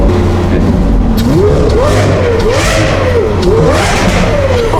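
A loud supercar engine, a Lamborghini Aventador or Ferrari 488 GTB, revs up and down repeatedly in neutral, its pitch rising and falling, booming and echoing in an underpass.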